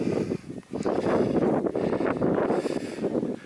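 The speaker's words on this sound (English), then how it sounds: "The wind's picking up, so sorry about that. You could possibly hear it in the microphone." Wind buffets a handheld microphone on an exposed hillside walk in the Black Mountains of Herefordshire, a loud, continuous rumbling roar with gusty swells and one brief dip.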